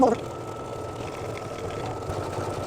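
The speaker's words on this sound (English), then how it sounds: "I'm going to do a tack down stitch with the yellow" An embroidery machine sews a yellow tack-down stitch on an in-the-hoop mug rug, giving a steady mechanical hum and rapid needle patter that carries evenly throughout after a brief louder onset.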